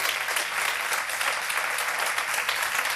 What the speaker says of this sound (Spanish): denle un aplauso fabuloso al Señor